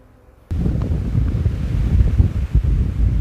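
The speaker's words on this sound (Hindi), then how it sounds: "बहुत ही अभी हवा चल रही है तेज़ गति से, लगभग 60 की स्पीड में ये हवा चल रही है।" Strong gusting wind at a lakeside temple beside a village pond, booming into the microphone as a loud, continuous roar that starts abruptly after a brief quiet moment and surges unevenly throughout.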